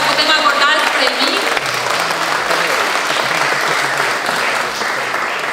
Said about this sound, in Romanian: Haideți să-i aplaudăm pe acești parteneri